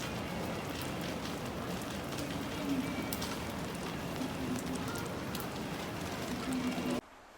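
Steady rain falling at Shibuya Crossing in Tokyo, a dense, even hiss of drops on pavement and surfaces that fills the scene continuously before cutting off abruptly near the end.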